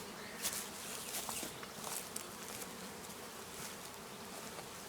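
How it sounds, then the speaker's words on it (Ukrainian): Steady, dense buzzing of many honeybees fills the air at an apiary with acacia in bloom, a continuous hum with occasional louder bees passing close by. "Бджоли працюють."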